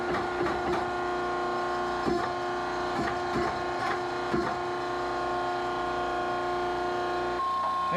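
Wrist pin being pressed into the piston of a 3211 gasoline injection pump during an overhaul, a series of sharp clicks and knocks with a steady mechanical hum throughout, close and fairly loud.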